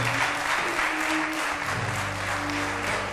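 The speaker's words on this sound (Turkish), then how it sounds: "Alkışlarla davet ediyoruz" A studio audience on a Turkish daytime talk show applauds in a dense, even wash, with a sustained musical tone running underneath.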